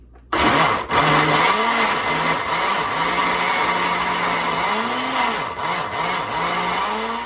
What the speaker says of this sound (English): I generally don't put the cover on my blender